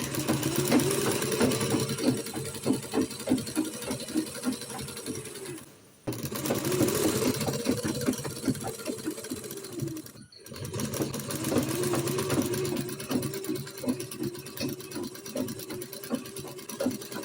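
Sewing machine stitching a folded fabric edge for a jilbab prayer dress, running in steady rapid bursts with two brief pauses, close and fairly loud with no talk.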